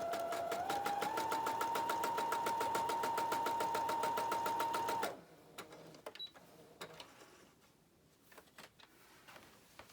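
A sewing machine stitches steadily along a drawn diagonal line across a quilt block for a nine patch or snowball pattern, a fast even whir with a rising tone for about five seconds, then stops, leaving faint handling clicks.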